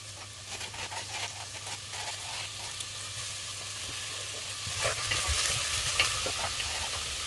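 Vegetables, including leeks, sauté in a pot with a steady sizzle, punctuated by scraping stirs that grow busier and louder toward the end.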